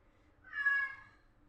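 A pet cat gives a single clear meow lasting about half a second, close and moderately loud against a quiet room.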